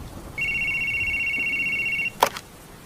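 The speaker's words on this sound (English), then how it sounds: "when the phone started ringing." Electronic telephone ring in a pizza shop, one steady high-pitched trill lasting under two seconds over quiet background hiss, followed by a brief click as if the receiver is picked up.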